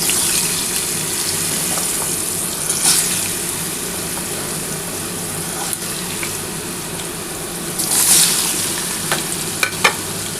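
Potatoes fry in oil in a pan for a spicy papad curry, a steady soft sizzle with a few brief louder crackling bursts, close by and without talk.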